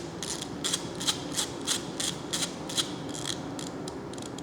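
A laboratory micropipette's volume dial is turned toward 1,000 microliters, giving a steady series of small, close ratcheting clicks at a regular pace, crisp and fairly quiet.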